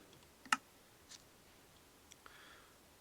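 Mouse clicks sound while a Minecraft Education world is being set up, one sharp close click followed by a few fainter taps in an otherwise quiet room.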